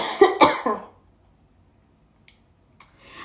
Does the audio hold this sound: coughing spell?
yes